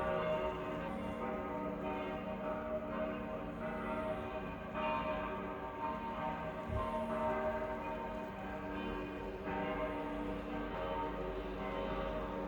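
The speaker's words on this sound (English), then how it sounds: "I hear the bells. I don't know from where. Maybe it's from a church from the other side of the mountains." Distant church bells ring across the Austrian mountains, faint and steady, their tones hanging in the air for the whole stretch.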